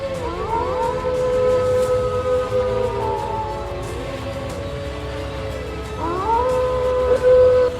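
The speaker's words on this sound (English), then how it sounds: "However, they don't expect their howls to be answered." Wolves in the Roblox game Yellowstone Unleashed howl in layered chorus, long rising and falling wails overlapping and swelling again near the end, loud and close with no speech.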